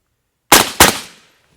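Two sharp, loud rifle shots through a Rugged Suppressors Surge 762 silencer, each a muffled thump with a short tail, fired in quick succession outdoors with no talking.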